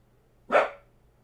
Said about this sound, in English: Maxie, what are we barking at already, bud?